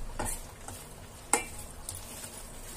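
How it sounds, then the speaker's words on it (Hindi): Gram flour being stirred and roasted in a pan for laddu, heard as faint scraping and light clinks of a spoon against the pan. There is one sharper tap and a soft sizzle underneath, with no talk. "अब हम इसे थोड़ी देर और भूनेंगे क्योंकि हमारा बेसन ब्राउन कलर का होना स्टार्ट हो गया है।"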